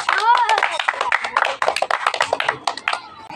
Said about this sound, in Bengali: জোরে হাততালি দাও